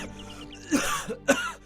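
A person with a cold coughs twice, short and harsh, up close, after a brief moment of quiet.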